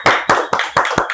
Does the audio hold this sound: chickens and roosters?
no